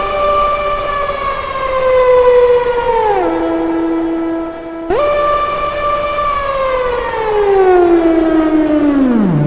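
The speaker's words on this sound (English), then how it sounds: "Nice brass sounds on here though." A brass patch on an Arturia PolyBrute synthesizer plays long, rich held tones that glide downward in pitch, jump back up after a brief dip, then slide down again, loud and close with no voices.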